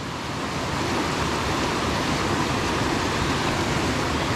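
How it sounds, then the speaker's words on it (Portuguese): A clear mountain river flows with a dense, steady rushing roar that stays constant and fairly loud throughout, with no voices over it. "Ó, riozão massa. Água bem cristalina, bem limpinha."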